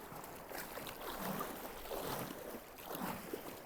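Paddling out on a SABFOIL foil board in open water: continuous soft water wash and splashing with faint wind, the paddle strokes blending into a quiet, even rush.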